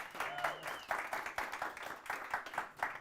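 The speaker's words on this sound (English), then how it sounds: "how about a big round of applause for Anna for being here tonight?" A small audience claps for a guest speaker at a talk on decentralized finance, quiet and somewhat distant, the claps uneven and sparse in short bursts over three seconds.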